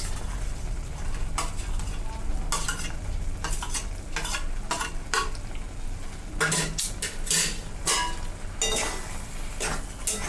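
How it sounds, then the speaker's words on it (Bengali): Cashews and raisins are stirred into cooked tomato chutney in a pan, with soft sizzling beneath repeated scraping and clinking of a spoon against the pot, close and fairly quiet. "টমেটোটা সেদ্ধ হয়ে গেছে, এবার আমরা এতে দিচ্ছি কিছু কাজু আর কিশমিশ।"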